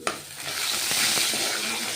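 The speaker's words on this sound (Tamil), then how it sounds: "கடுகு பொரிஞ்சோடனே பார்த்தீங்கன்னா கடுகு இப்போ பொரியுது." Mustard seeds splutter while cumin and fenugreek fry in hot oil, a brief dense crackling sizzle that opens with a sharp tap and then holds steady and close.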